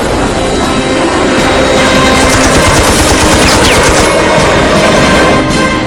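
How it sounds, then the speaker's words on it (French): An F-86F Sabre fighter jet fires its guns at a MiG-15 during Korean War air combat: a loud, dense, sustained rattling burst of rapid gunfire lasting about six seconds, with no speech. "Couvert par ses hommes, Reisner vire avec le MiG et tire à nouveau."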